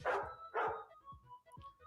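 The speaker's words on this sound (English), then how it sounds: "I forgot I have a dog sound effect here." A dog barking sound effect: two loud, close barks followed by a few softer, shorter yips and whines, clear against a quiet background.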